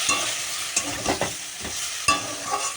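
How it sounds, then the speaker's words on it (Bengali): Spice masala with ginger and green chilli paste frying in a pan while being stirred, a loud close sizzle broken by several scraping stirs of a spoon, no voices. "এখন এটাকে আমি একটু জল দিয়ে কষি"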